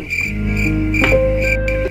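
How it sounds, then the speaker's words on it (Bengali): Crickets chirp all around in a jungle at night, a close, steady, shrill trilling that fills the scene continuously. "চারিদিকে ঝিঝি পোকার ডাক,"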